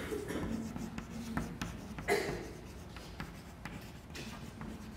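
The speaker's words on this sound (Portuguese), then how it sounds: "eu vou escrever assim" Chalk or marker strokes on a board during a general and inorganic chemistry lecture, a steady run of scratchy taps and scrapes with a faint voice in the background.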